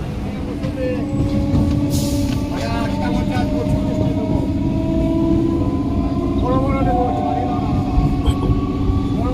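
Howrah–Goghat local train running on toward Kamarkundu after crossing a level crossing at Singur, a steady rumble and wheel clatter heard from inside the coach throughout, with faint tonal squeals and brief murmurs of passenger voices.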